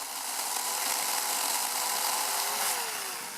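A chainsaw runs steadily at high revs, cutting a tree stump flat, with a continuous loud drone and no pauses.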